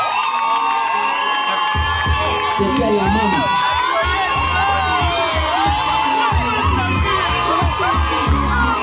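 An audience cheering loudly at a talk event on polygamy, with a dense crowd roar of shouts and whoops alongside a voice speaking, steady and close throughout; clapping is not distinct.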